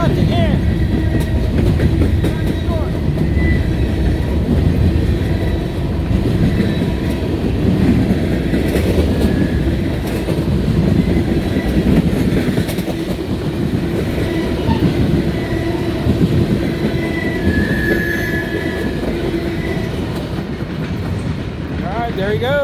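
A train passing on a busy afternoon in Wyoming, a loud continuous rumble of rolling railcars with rhythmic clickety-clack that holds steady for over twenty seconds and eases slightly at the end, with some voice beneath.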